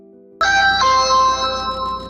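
A phone ringtone starts abruptly after faint background tones, a bright electronic chiming melody ringing loud and close for about two seconds.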